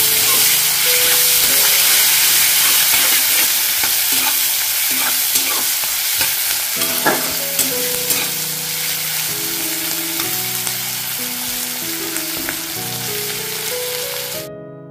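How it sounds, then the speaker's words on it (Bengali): Chopped onion frying in a pan for a Bengali fish-head rice dish, a loud, continuous sizzle and hiss with occasional scraping stirs, close up and steady with no talk. "এবার এর মধ্যে দিয়ে দিচ্ছি একটা কেটে রাখা পেঁয়াজ। পেঁয়াজটা দিয়ে ফ্রাই করে নেব।"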